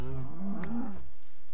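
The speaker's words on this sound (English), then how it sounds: "Oh, we've got some cows. Got some moo cows." A single low, drawn-out moo from video game cattle sounds close and clear, rising then trailing off over a faint background.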